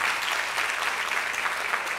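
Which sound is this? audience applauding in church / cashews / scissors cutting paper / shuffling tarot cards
audience applauding in church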